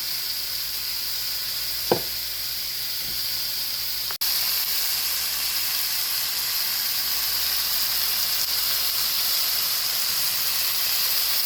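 A pot roast browning in a hot pan gives off a steady, loud sizzle throughout, with a soft tap near the start and a sharp clank a few seconds in as the meat is turned.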